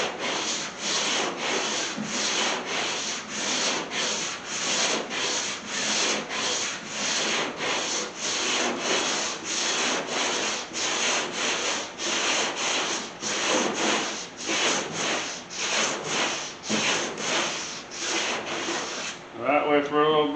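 Steady back-and-forth sanding strokes on body filler across the roof of a 1981 Chevy C10 short-bed squarebody pickup, a regular rasping rhythm of roughly one stroke per second, close and loud with no talking.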